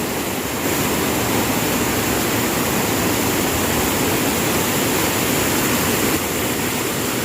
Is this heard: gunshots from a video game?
no